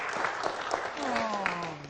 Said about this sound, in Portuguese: Vamos aplaudir essa ferinha aqui.